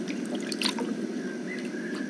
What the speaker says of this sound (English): She's actually just paddling in the water.